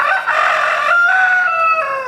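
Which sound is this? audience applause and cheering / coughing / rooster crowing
rooster crowing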